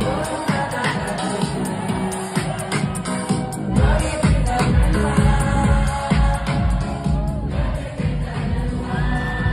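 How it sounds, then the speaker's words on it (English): A club crowd at a house set sings along and cheers over a loud, pounding house beat, many voices blending into a dense, lively wash. "At least they're singing along"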